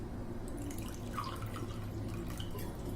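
Water pours into a bowl of thick spiced buttermilk, masala chaas, a steady close trickle and splash running unbroken throughout, with no talking.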